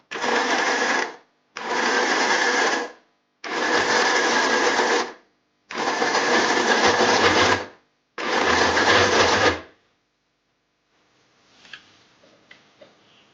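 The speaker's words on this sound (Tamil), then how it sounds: "கீமாவும் போட்டு கொஞ்சம் நல்ல மிக்சியில அடிச்சு எடுத்துக்கணும்." An electric mixie grinder blends minced meat (keema) for kola urundai in five loud, pulsed bursts of whirring motor noise with short pauses between them, then falls almost silent apart from faint clinks.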